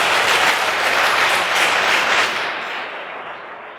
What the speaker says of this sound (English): A round of applause for Fido.